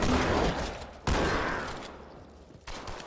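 Sustained gunfire in the video game Halo 2, a dense barrage that stays loud throughout with sharp bursts near the start and again toward the end, no talking.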